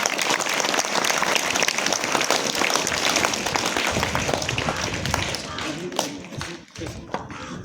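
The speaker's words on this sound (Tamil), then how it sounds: "அனைவரும் பலத்த கரகோஷத்தை எழுப்புமாறு அன்போடு கேட்டுக்கொள்கிறேன்" Audience applause at a Tamil cultural gathering in the Nilgiris during an award presentation, dense sustained clapping from a full hall, loud and close, with some crowd noise mixed in before it thins slightly near the end.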